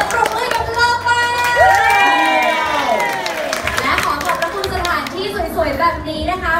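Crowd at a Thai meet-and-greet event with drama actors cheering and clapping loudly for a sponsor, shouts and children's voices mixed into a steady, dense roar throughout.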